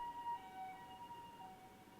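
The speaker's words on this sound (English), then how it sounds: "there's an ambulance again." A faint ambulance siren wailing in the distance with a steady rising and falling tone over low background hum, no voices present.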